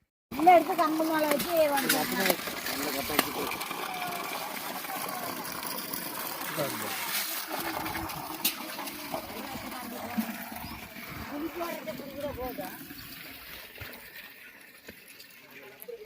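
Water flows steadily from a 3 hp solar-powered pump, a continuous trickling stream heard close by for the whole stretch, with people talking over it and the flow easing slightly toward the end.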